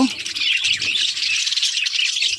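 Several birds squawk and chirp continuously in a shrill, overlapping chorus, close by and loud throughout.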